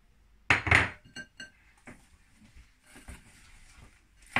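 Sugar is mixed in a glass bowl for pastry cream, with a few sharp clinks of a utensil against the bowl early on, then softer scattered scraping and taps, close by and without talk.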